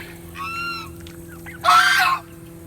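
Goose honking on a farm with turkeys nearby, a short nasal call followed by a louder, harsh honk, close and clear over a faint steady background hum.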